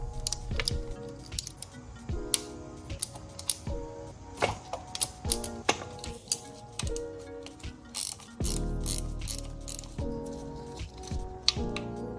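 Ratchet wrench clicks while loosening the valve cover bolts on a Honda CBR600RR motorcycle, close metallic ratcheting in short repeated bursts with tool taps and clinks between them.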